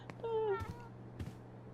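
A cat meows in the video game Life is Strange: True Colors, a single rising-and-falling call of about a second, fairly clear over a low steady game hum, followed by a couple of soft thumps.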